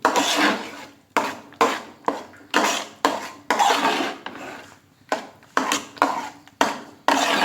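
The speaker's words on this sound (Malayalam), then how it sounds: "വീണ്ടും ഇതിനെ നന്നായിട്ട് ഇളക്കിക്കൊണ്ടിരിക്കുക." Banana halwa is stirred in an uruli pot in a brisk, repeated rhythm of scraping and knocking strokes, each a short loud rasp of the spoon against the metal, with brief pauses between strokes.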